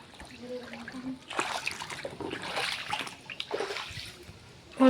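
Floodwater splashes and sloshes in irregular bursts at close range, mixed with trickling, while a voice speaks intermittently over it.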